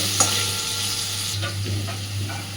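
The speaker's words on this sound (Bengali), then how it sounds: "সুন্দর করে আলুগুলোও ভেজে নেব।" Potatoes fry in hot oil with a continuous close sizzle, a low steady hum underneath and a few soft stirring knocks.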